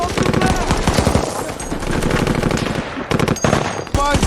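Machine gun bursts ring out during a movie firefight as soldiers attack a building, rapid loud rattling fire running almost continuously, with a short gap near the end before shooting resumes.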